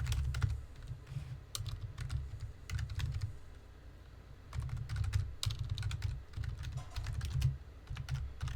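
Rapid clacking keystrokes on a computer keyboard as commands are typed into a terminal on Ubuntu Linux, close and steady in bursts with brief pauses, no talking.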